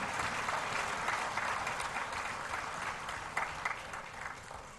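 Steady applause rolls through an auditorium at a national conclave's valedictory session, fairly faint and distant, a continuous wash of clapping without voices.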